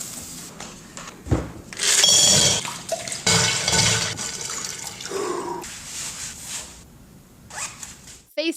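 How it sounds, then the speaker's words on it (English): Water splashes as a face is dipped into Saratoga water at a sink, a few rough bursts of sloshing and dripping up close, with quieter handling noise between them. "Face dip with his Saratoga water"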